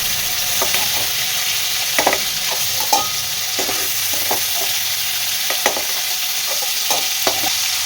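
Fish oil frying in a pan for a Bengali macher tel dish gives a steady, dense sizzle throughout, with scattered soft clicks and taps of a spatula stirring it, close and with no talking.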